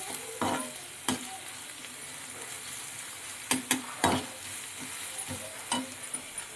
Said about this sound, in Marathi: बारीक कापलेला कांदा, आलं लसूण पेस्ट आणि तेल मी टाकून घेतलंय.